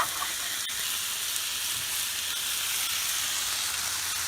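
Butter and rice sizzle steadily on a hot Blackstone flat-top griddle, a close, continuous frying hiss with no talk over it.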